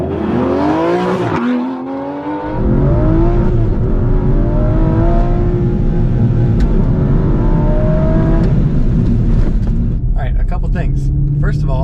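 An Aston Martin V12 Vantage S accelerates hard through the gears, a loud, close engine roar climbing in pitch with several distinct gear changes, heard from inside the car.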